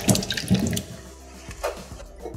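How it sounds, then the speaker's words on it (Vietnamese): Peeled sweet potatoes being rinsed in a basin of water, with close splashing and sloshing in a few uneven bursts as the roots are rubbed and moved around, then quieter trickling. "Rửa cho củ khoai nó thật là sạch mủ ở bên ngoài."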